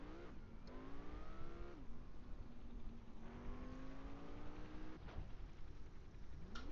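A motorbike engine revs in the game Gangstar Vegas, its pitch sweeping up and dropping back through several gear-like rises over steady, loud engine roar, with no talking.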